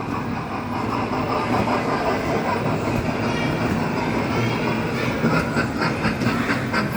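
A small amusement park ride train rolls by with a continuous clattering rumble and faint clicks, steady throughout, with some background voices mixed in.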